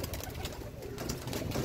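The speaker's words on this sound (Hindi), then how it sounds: "जोड़ों वाला कबूतर है" Pigeons coo in a steady, low murmuring stream, several birds close by, with no talk over them. They are fancy pigeons of the kind with paired crests.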